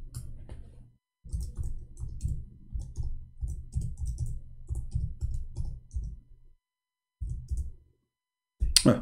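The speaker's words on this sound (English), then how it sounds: "I'm typing in English" Steady computer keyboard typing in bursts with short pauses, close and moderately loud, clicking keys in quick irregular rhythm.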